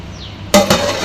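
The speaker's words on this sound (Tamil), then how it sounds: "நெய் விட்டுட்டு திரும்ப மூடி போட்டுடலாம்." A metal lid goes back onto a cooking pot of chicken biryani after ghee is added, making two close, sharp clanks about a fifth of a second apart, followed by a faint ringing and no talking.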